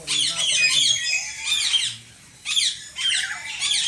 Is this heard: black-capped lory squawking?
yes